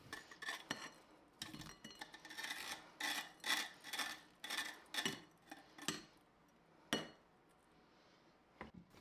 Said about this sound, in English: At least the bench scraper makes cleanup super easy.